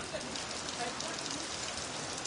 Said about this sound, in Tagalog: Ulan man.